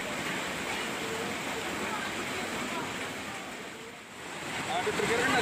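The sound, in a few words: floodwater rushing after heavy rain in Gianyar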